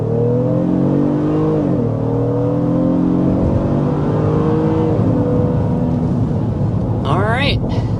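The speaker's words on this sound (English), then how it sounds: "you can hear that growl of a V6" A V6 engine in a 2026 SUV, a Honda Pilot or Toyota Grand Highlander, revs and accelerates to about 60 mph, its pitch climbing through the gears in a smooth, growling rise, close and loud.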